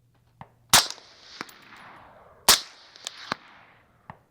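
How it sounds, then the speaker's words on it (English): Suppressed rifle shots from a Griffin Armament HRT 556 rifle fitted with an RC2 suppressor, fired from the hip outdoors: two sharp cracks followed by a few lighter clicks and pops, each with a short decaying tail. "All right, so we're just gonna hip fire. Okay, so RC2 first."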